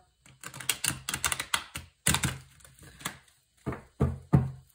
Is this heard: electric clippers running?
no